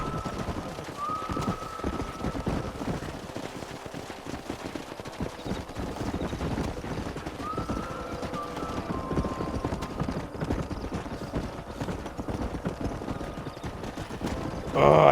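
Horse hooves clip-clop steadily in Red Dead Redemption as a small herd of six horses is driven along, a dense mix of hoofbeats under game ambience with brief neighs, ending in a louder burst at the close.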